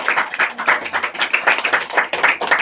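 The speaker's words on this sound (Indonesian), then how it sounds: "Aplaus buat kalian." A classroom of students applauding, a close, lively patter of many hands clapping in uneven bursts with no talk over it.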